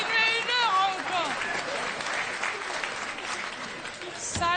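An audience applauds steadily through a stretch of French stage comedy, a dense wash of clapping with a performer speaking over it.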